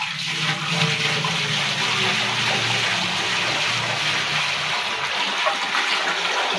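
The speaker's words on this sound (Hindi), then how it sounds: "सबसे पहले इसमें जाएगा पानी," Water gushing steadily into a large cooking pot set out at a farm for chicken dum biryani, a loud, continuous splashing pour lasting several seconds with no talk.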